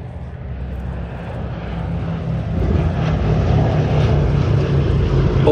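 A four-engine propeller plane flies at the Sywell airshow, its engines droning loudly and steadily, the roar slowly building as the aircraft draws nearer.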